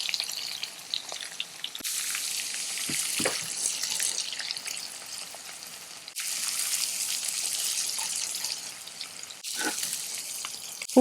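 Onions and cinnamon frying in a pan for smoke layer biryani, a steady loud sizzle and crackle that swells in bursts with brief quieter gaps, heard alone without talk.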